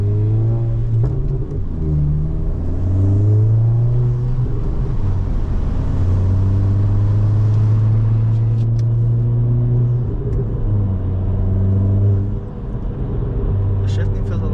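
A modded 2022 Honda Civic Si with an upgraded clutch drives along, its engine humming steadily and dropping in pitch at gear shifts, while someone talks over the interior cabin drone.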